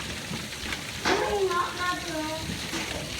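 Hail falling during a May storm, a steady dense pattering and hiss close by outdoors, with excited voices talking over it.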